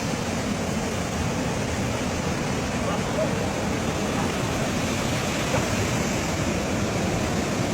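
A waterfall gives a constant, dense rushing roar that fills the whole scene without a break, with people faintly talking beneath it.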